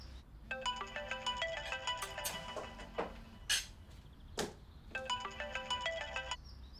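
A telephone ringtone rings in two clear bursts of a repeating electronic melody, with a few sharp knocks and clicks in between, and no one speaking.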